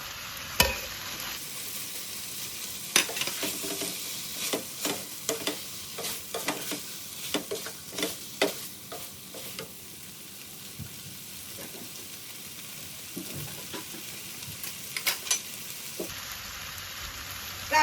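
Sea catfish stir-fried Thai style in a pan with fingerroot, green peppercorns, red chilies and kaffir lime leaves. A steady close sizzle is broken by repeated scraping stirs, busiest early and thinning out toward the end.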